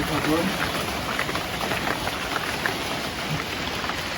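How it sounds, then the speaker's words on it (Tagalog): Dense, steady rain pours down in a constant close patter, with a voice briefly audible beneath the downpour. "lumakas na talaga yung ulan"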